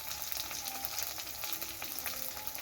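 Cumin seeds hit hot oil in a pan with a continuous, fairly quiet bright sizzle and crackle, alone with no talk.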